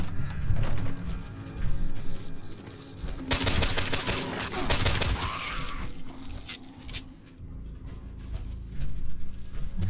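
Pistol shots ring out at roaches in the video game Fallout 76, a burst of rapid sharp reports amid clanking mechanical game sounds, loud and without talk.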